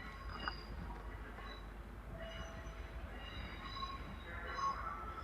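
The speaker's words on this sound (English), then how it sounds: "now arriving is a duo of Class 350 from the depot just down the way" A pair of Class 350 electric trains pulls into Crewe station, a faint, distant rumble with soft wheel and brake squeals and tonal whines rising and fading over a constant low background.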